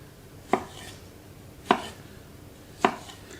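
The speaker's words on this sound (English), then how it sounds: "Chop them into 4 or 5 pieces." A knife chops tomatoes into chunks for a gurnard taco dish, three sharp, evenly spaced cuts against a board, close and clear with no talk.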